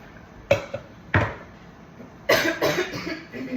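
Three sharp coughs from someone close by, two single bursts followed by a longer rougher one, with quiet pauses between.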